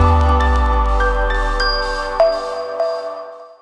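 Notification bell sound effect: a bright metallic ding with long ringing overtones, followed by two softer tinkling chimes as the tone decays, clear and close with no talking.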